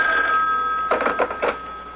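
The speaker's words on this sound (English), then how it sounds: "when the phone rang" A telephone rings in the middle of a busy meeting, sounding as a few close, bright ringing bursts over a steady electrical hum, with no talking.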